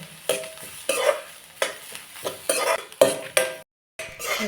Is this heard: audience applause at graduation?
no